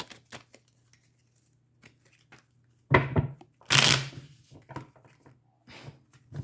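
Quick bursts of tarot cards being riffled and shuffled, two louder rustling flurries amid soft taps and clicks, close by with no talking.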